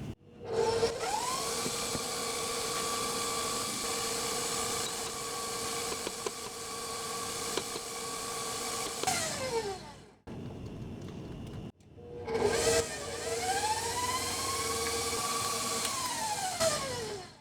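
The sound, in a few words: mixer with paddle attachment beating keto cream cheese frosting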